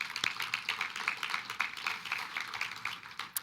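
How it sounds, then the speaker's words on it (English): A small evening community forum audience in a church claps briefly, a short burst of close, moderately loud applause from a modest crowd with no talk over it. "Round of applause for the RAC."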